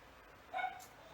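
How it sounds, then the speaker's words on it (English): A small dog gives a single faint, distant bark or yip, brief and soft against a quiet indoor room background. "Sorry if you can hear my dog."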